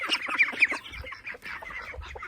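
Laying hens busy on a compost pile, clucking close by in quick, overlapping bursts of short calls, with some soft scratching underneath.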